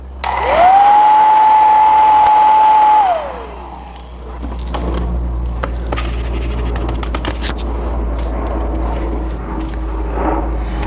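A loud hair dryer whines at a steady pitch while drying a painted cork plaque, then switches off after about three seconds, leaving quieter handling and scraping noises.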